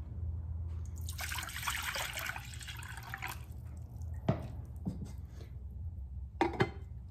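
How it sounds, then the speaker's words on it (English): Water running into a cooking pan to fill it halfway for boiling dried pasta: a broadband trickling pour for about three seconds, then a few separate drips and splashes over a low background hum. "fill your pan halfway with water"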